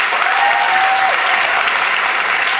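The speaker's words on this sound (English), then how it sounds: "Can we give them a round of applause?" A large audience at a TEDx talk gives loud, sustained applause to the organizing committee, a steady close wall of clapping with a brief whistle near the start.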